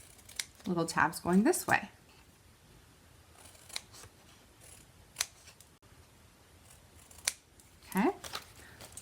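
Scissors snip through paper while a gift box is shaped, several short crisp cuts between bursts of a person talking, with a few more isolated snips later.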